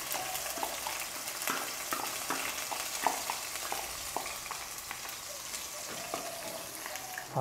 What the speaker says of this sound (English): we're going to let it fry Okay. until it turns into reddish brown